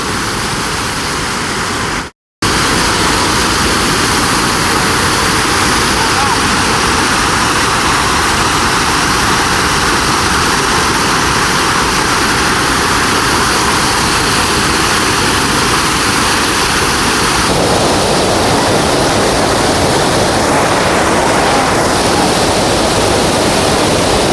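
Sarugudu waterfall in Anakapalli district roars as a loud, continuous rush of falling water, steady and close throughout, with a low engine-like hum beneath for most of the stretch and one brief dropout near the start.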